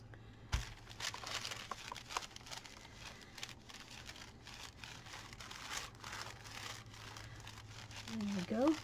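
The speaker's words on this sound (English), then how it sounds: "cover it with a piece of protective baked paper" Sheet of baking paper crinkling and rustling as it is laid and smoothed over glued tissue paper in a paper-strengthening craft, with soft scattered crackles running throughout before a brief higher squeak near the end.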